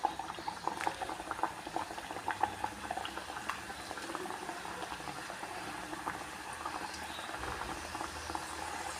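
Chebakia dough slipped into medium-hot frying oil bubbles and crackles in a busy, steady patter of small pops, close and moderately loud throughout.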